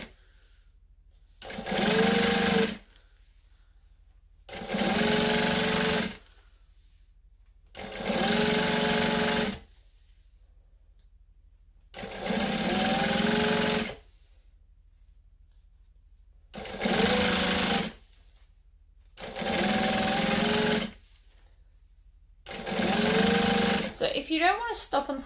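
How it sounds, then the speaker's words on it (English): Sewing machine stitching fabric an eighth of an inch from the edge for a quilted tutorial project, running in seven steady bursts of a second or so each with short pauses between, close and loud. "I'm stitching 1/8 of an inch from the edge of the fabric"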